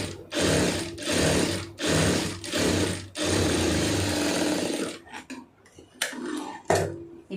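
A sewing machine stitches the lining of a blouse in several loud bursts separated by short pauses, then gives way to softer clicks and handling of the fabric.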